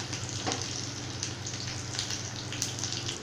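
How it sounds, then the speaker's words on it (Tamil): Mustard seeds, urad dal and curry leaves crackle and sizzle steadily in hot oil, a close, continuous frying hiss with sharp little pops scattered throughout. "கடுகு உளுந்தம் பருப்பு பொரிஞ்ச உடனே கருவேப்பிலை ஆட் பண்ணிருக்கேன்"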